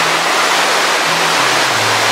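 Rushing water released from a dam after heavy rain, heard near a bridge as a loud, steady broadband roar with no breaks, a low hum faintly beneath it.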